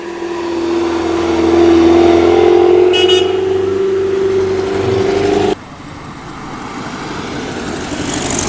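Classic Porsche 356 driving past at a car show, a steady loud engine drone that rises and holds before cutting away, with a brief horn-like toot partway through.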